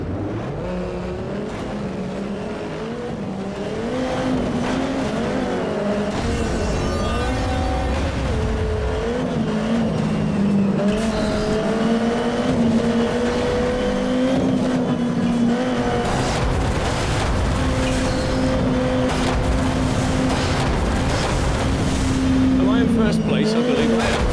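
Race car in a video game demo at the Sony E3 2007 press conference, engine droning and revving steadily with rising and falling pitch as it accelerates and brakes, loud and continuous alongside a speaking voice.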